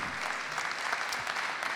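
Steady applause from an audience at a round-table conference, a dense continuous patter of clapping at even loudness throughout, with no voices on top.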